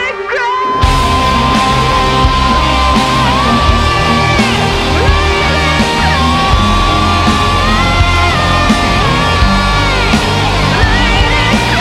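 Harsh screamed vocals from a rock band's song, buried in a loud, dense, headbanging mix of drums and guitars that runs continuously throughout.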